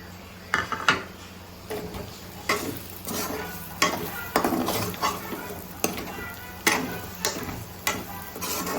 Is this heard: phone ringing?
no